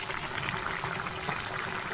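Fish curry made with small poa fish bubbling as it boils in a pot on a home kitchen stove, a steady close simmer running unbroken throughout.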